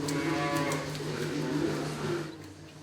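Cattle and calves on an organic dairy farm moo in a long, drawn-out low call, loud and close, blended with a steady mechanical hum and farm ambience.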